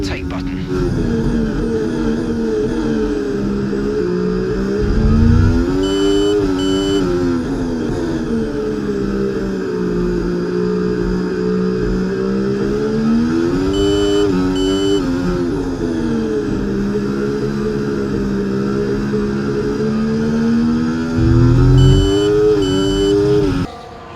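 F1 car in EA Sports F1 24 racing at the Hungaroring, its high engine note rising and falling steadily through gear changes for the whole stretch, with brief louder bursts and a voice talking over it.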